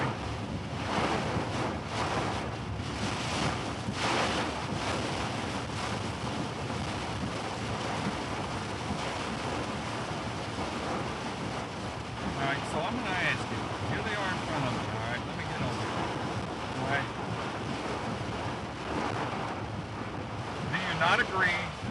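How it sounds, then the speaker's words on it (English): Gusty night wind buffets the microphone for the whole stretch, a loud, rough, continuous roar that surges and eases without a break. "Gusty winds in this as well."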